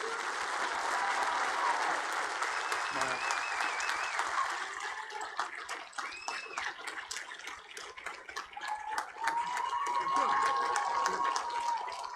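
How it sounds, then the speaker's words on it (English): A crowd at a school commencement ceremony claps in a dense, sustained round of applause that swells and settles again, with a few whoops and cheers rising above the clapping. "Let's give Bob a big round of applause."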